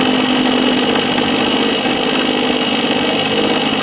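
A Milwaukee M12 Surge 1/4-inch hex hydraulic driver runs at a slightly reduced bit speed, giving a loud, steady whirring drone that continues unbroken from start to finish.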